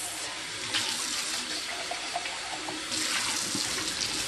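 Water dumped out of a container used for growing sweet potato slips, a steady splashing pour that runs the whole time, briefly easing then surging again, with no voices.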